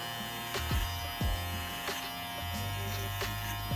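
Electric hair clippers buzz steadily and close up while cutting a zero-guard line above the ear for a mid fade, the tone shifting slightly as the blade moves through the hair.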